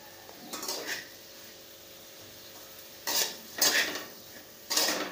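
Vada pav potato filling is sautéed in a pan, with a low background sizzle broken by several scraping strokes of a spatula against the pan, close and distinct, in short bursts.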